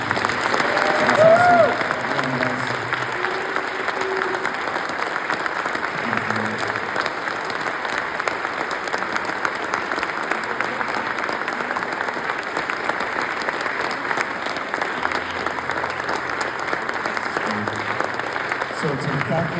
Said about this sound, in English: can we clap for him one more time?